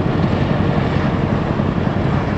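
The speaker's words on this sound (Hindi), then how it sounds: "एक हेलीकॉप्टर के नीचे ये सिंगापुर का फ्लैग फहराया जा रहा है" A helicopter flies over Singapore carrying a flag beneath it during Independence Day celebrations, producing a loud, steady, continuous rotor and engine roar with no break.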